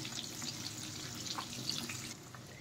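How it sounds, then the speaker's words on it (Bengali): Duck eggs frying in a pan, a soft steady sizzle with faint crackles, quiet and continuous, easing slightly near the end. "ডিমগুলো কিন্তু ভালোভাবে লাল লাল করে ভেজে নিতে হবে"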